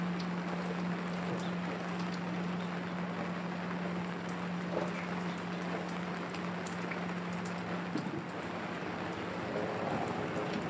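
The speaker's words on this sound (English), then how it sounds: "The following morning brought steady rain and very little wind." Steady rain falls on an open sailing dinghy moored on the Norfolk Broads, a continuous soft hiss close by with a low steady hum underneath and no voices.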